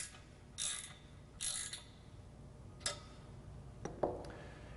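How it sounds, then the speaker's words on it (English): A ratchet tightens the U-bolts that clamp an alignment mount for a Det-tronics LS2000 onto a pole, with a few short, separate clicking bursts and a couple of sharp metallic ticks against a quiet background. "putting it at the height that you want and then attaching the U-bolts around the back"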